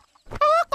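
A cartoon chicken gives a short, loud cluck, a quick rising squawk followed by a brief second note, with nothing else around it.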